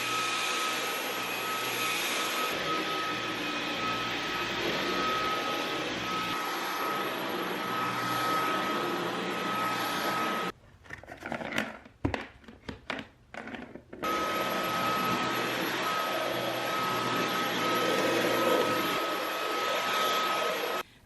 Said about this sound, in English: Here comes the crucial moment where I'm going to vacuum after cleaning the filter for the first time in a year.